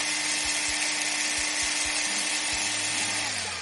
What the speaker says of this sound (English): I reckon it might be the DeWalt 5 amp 18 volt XR brushless combo kit